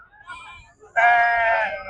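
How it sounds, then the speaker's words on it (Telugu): Macherla sheep at the Chillakallu sheep and goat market. A brief quiet bleat is followed by one loud, close, wavering bleat that holds for nearly a second. "మిగిలినవి మొత్తం కూడా మాచర్ల గొర్రెలు ఎక్కువగా ఉన్నాయి"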